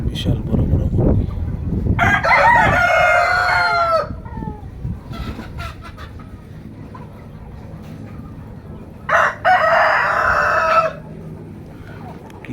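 Native chickens on a farm, with two loud rooster crows ringing out over ongoing clucking and background noise.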